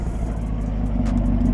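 2019 Chevrolet Camaro SS 1LE with stock exhaust, engine rumbling close by at low revs with a few faint crackles and pops.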